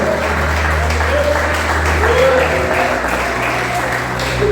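Church congregation applauding during a Portuguese-language service, continuous loud clapping over a low sustained hum, with voices faintly mixed in.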